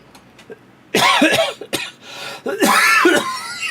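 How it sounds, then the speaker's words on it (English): Several sharp coughs in short clusters from someone setting up a livestream, turned away from the microphone; the first burst is loud and the rest follow in uneven, rough bursts. "Trying to cough away from the microphone."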